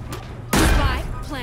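A Killjoy swarm grenade lands in Valorant as an abrupt loud thump with a brief burst of noise, then a lower rumble that fades out over about a second.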